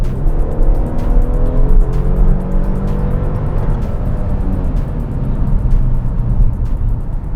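Loud, close engine roar as a rear-wheel-drive 2021 Kia Stinger GT2 accelerates hard, its pitch climbing through gears with brief dips at the shifts, plus sharp clicks over a rumbling road and wind noise, no voices.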